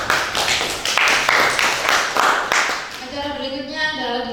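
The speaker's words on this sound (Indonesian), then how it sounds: "Tepuk tangan untuk kita semuanya." Applause at a teachers' workshop, a brief burst of close, separate claps from a small group that fades as a voice begins speaking over the end.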